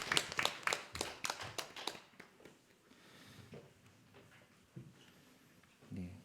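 A church congregation claps in a quick, fairly close burst of applause that fades away within about two seconds, leaving a quiet room with faint shuffles and a few scattered taps.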